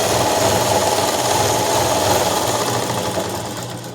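Electric sewing machine running a continuous line of stitches along the edge of a long frock's side seam, a loud, even, rapid whirring drone held throughout with no pauses.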